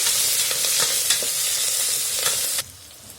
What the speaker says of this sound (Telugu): ఇప్పుడు కరివేపాకు, ఎర్రగడ్డలు, కొన్ని పచ్చిమిరపకాయలు, 2 3, ఎక్కువ ఏం లేదు. బాగా ఆయిల్లో ఫ్రై చేసుకోండి.